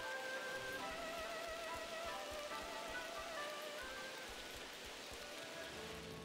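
Steady rain patters on surfaces in the video game Shenmue III, a continuous, even hiss of drops with faint melodic tones drifting underneath and no talking.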